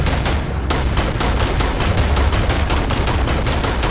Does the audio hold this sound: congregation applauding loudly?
no